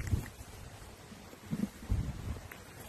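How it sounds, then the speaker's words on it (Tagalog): Strong, cold wind buffets the microphone in low rumbling gusts at an apple orchard, with louder bursts partway through and no talking. "Sobrang lakas ng hangin, oh."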